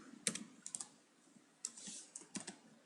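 Quiet clicking keystrokes on a computer keyboard come in short bursts with pauses between them, close and soft, while HTML code is entered, with no talking.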